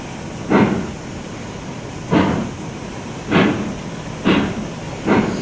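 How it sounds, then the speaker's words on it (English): Railroads Online video game train slowly backing up, with five evenly spaced heavy chuffing bursts over a steady low rumble and hiss, fairly loud and close. "Now let's go ahead and back this train up now"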